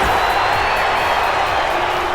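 Loud, steady crowd ovation in a WWE 2K wrestling video game, a dense continuous roar of cheering filling the arena without a break.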